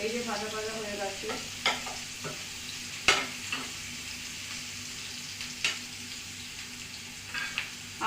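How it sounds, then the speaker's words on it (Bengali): Vegetables sizzle in an oiled pan for an oats curry, a constant gentle frying hiss broken by a few clacks and scrapes from stirring, heard up close. "এই যে ভাজা ভাজা হয়ে গেছে,"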